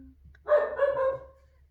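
A single short dog bark or yelp indoors, moderately loud and slightly muffled over a faint low hum, heard once with no talk.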